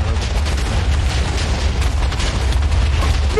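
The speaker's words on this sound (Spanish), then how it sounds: "según he visto acercarse toda la explosión" A big video game explosion rumbles on, a dense, loud, sustained blast with heavy low boom and crackling debris, with no talk over it.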